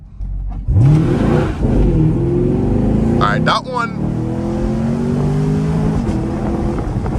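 A Chevrolet Camaro SS engine roars loudly as it launches and revs hard through rising gears, someone speaking briefly over the close, steady engine noise.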